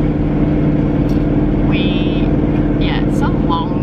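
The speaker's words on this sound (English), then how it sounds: "I think we're driving like 8 hours." Car driving on a long road trip to Mount Hotham, a loud steady engine and road rumble filling the cabin from start to end, with voices talking inside.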